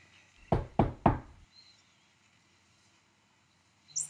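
Three sharp, loud knocks on a door in quick succession, close by and alone, followed by near silence.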